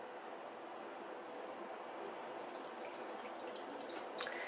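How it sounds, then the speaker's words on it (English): Milk pours into a bowl of fried-cookie batter with a faint, continuous liquid trickle, ending in a few soft splashes, and no one speaks. "Then I'm going to pour a little milk in here."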